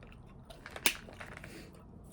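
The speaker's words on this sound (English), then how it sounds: "if I'm not chewing loud enough, or I'm chewing like obnoxiously, please let me know" Chewing gum close to the mic, soft wet smacks with one sharper click in the middle, quiet and intimate, with no talking.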